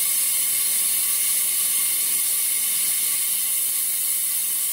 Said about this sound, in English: Okay, I've just turned the vacuum on.